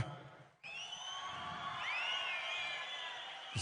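Crowd at a stage comedy and mimicry show cheering and whooping for farmers, a sustained roar of voices with shrill whistles and shouts that swells after a brief dip and holds steady.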